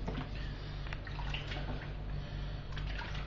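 Vinegar is poured over layered beef for biltong, a soft steady splash and trickle of liquid heard close with no talking.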